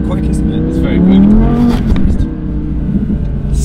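A sports car with a naturally aspirated V10 engine and double-clutch gearbox drives loudly close by, its engine note rising and holding steady under people talking inside the cabin.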